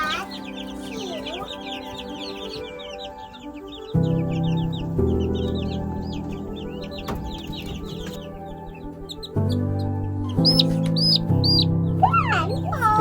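Chickens and small chicks around an old incubator, with high peeping and clucking repeating through the whole stretch, close and lively over a low background hum.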